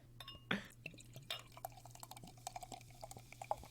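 Beer is poured into a glass, giving a faint run of small drips, fizzing pops and light glassy clinks, quiet and close, with no talk over it.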